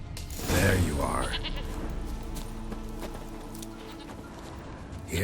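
A goat bleats loudly in The Witcher 3 video game, one strong quavering call early on, followed by softer ambient game sounds and faint hoof-like clatter.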